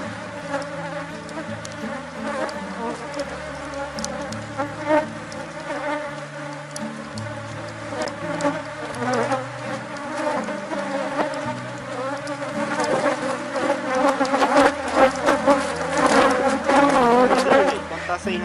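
A dense swarm of honeybees hums and drones loudly at close range during a hive split, the buzzing swelling and thickening toward the end, with no speech over it.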